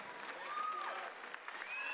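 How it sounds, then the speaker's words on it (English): Faint applause from the audience at a swimsuit pageant sits under whistles and cheering voices, with a few sharp claps standing out over about two seconds. "Let's give them all a round of applause one more time."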